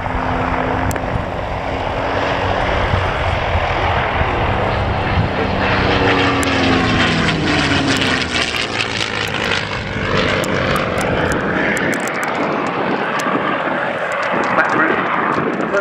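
A P-51 Mustang propeller fighter flies an airshow display at Scampton, its loud continuous engine drone rising and shifting in pitch as it passes, with a voice talking over it.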